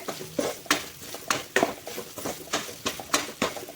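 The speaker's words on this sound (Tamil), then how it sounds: "எண்ணெயிலே ஒரு நிமிஷத்துக்கு நான் வறுத்து விட்டுக்கிறேன் தேங்காயை." Grated coconut roasting in oil in a pan, with a utensil stirring and scraping in a soft, regular rhythm of clinks over a faint background, moderately near and not loud.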